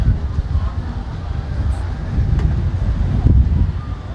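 Low, rumbling wind buffets the microphone steadily, with gusty blustering throughout and faint clicks here and there.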